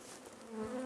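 A swarm of honey bees buzzes in a close, steady, droning hum during a brief moment.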